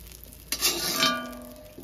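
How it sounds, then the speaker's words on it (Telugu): Vegetables for a Telugu ridge gourd chutney frying in a pan on a low flame, a soft steady sizzle with a stirring scrape, close and alone. "ఇంకా ఇవన్నీ సిమ్లో పెట్టే ఫ్రై చేసుకోవాలి"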